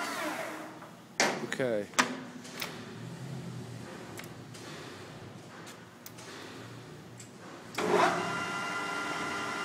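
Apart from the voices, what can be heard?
engine lathe running on longitudinal feed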